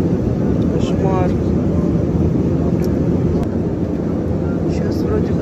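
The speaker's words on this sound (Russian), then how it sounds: "Самолет маленький, как же его трепет." Loud, constant droning rumble inside the cabin of a small passenger airplane in flight, steady and unbroken throughout.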